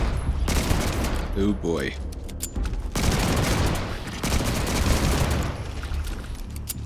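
Roger 45 mod weapon firing in Starfield, a rapid fusillade of loud close shots in dense bursts across most of the clip, with a brief spoken exclamation between volleys.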